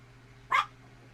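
A single sharp dog bark from the movie Mighty Joe Young, brief and fairly loud over a low, quiet background hum.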